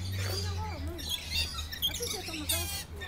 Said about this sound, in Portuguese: Olha a quantidade de pássaros.